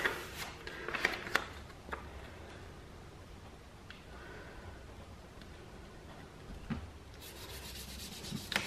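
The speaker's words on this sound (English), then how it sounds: "we're going to sand it back to the shape, which gives you the outline" Wood is rubbed back by hand with abrasive in irregular strokes, a soft scratchy rasp that comes and goes quietly, with a few louder scrapes near the start and the end.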